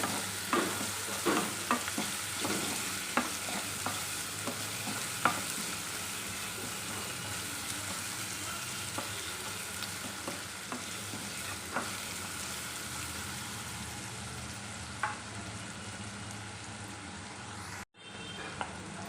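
Onions and green chillies sizzle in a pan, a continuous close crackle broken by repeated scraping stirs, quieter in the middle stretch, before a sudden cut near the end.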